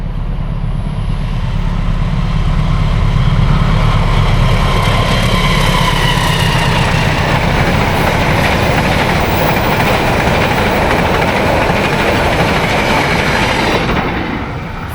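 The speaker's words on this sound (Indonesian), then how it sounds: "Di depan ada kereta, kita lihat kereta apa ini terlebih dahulu." Fajar Utama executive passenger train bound for Pasar Senen passing close by, a loud steady rumble of wheels and rail clatter that holds for the whole stretch before easing at the end.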